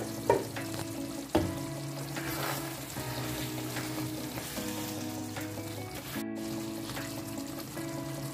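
Chicken for biryani sizzles in a pan with a constant, dense hiss and crackle, with a couple of louder knocks near the start and no talking.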